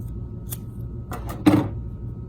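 Scissors cutting a piece of decorative tape for a handmade paper flag, with a few short close snips and a louder final cut in a quiet room.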